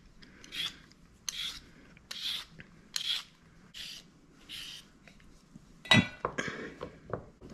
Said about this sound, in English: We're gonna begin by peeling the carrots.